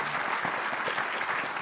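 Applause from a summit audience on financial inclusion, a steady dense clapping filling the whole moment without any voices over it.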